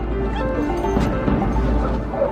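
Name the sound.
explosive detection dog barking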